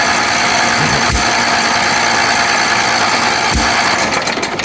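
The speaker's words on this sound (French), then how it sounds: "Quand même des bruits de ferraille là-dedans." A car engine idles steadily with a loud, continuous metallic rattle and a couple of sharp knocks.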